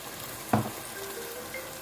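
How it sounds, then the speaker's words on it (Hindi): A cup of water hits a pan of frying potatoes cooked for aloo keema, giving one sudden splash and burst of sizzle that quickly settles into a steady, moderate frying hiss. "अब मैं 1 कप पानी डाल दूंगी"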